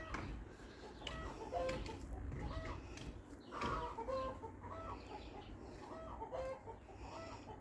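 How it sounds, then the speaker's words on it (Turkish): Hens cluck repeatedly nearby in short, bubbling calls against faint outdoor background noise, with a few louder squawks in the middle. "Evet tavuklar yumurtladı."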